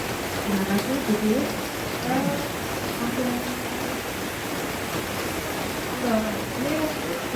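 Rain pours steadily on surfaces in an island setting during an evening church pastoral council visit, a loud continuous hiss, while people talk intermittently over it.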